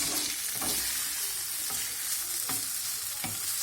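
Chicken frying in a pan for homemade tantuni, a steady close sizzle with periodic stirring scrapes every second or so.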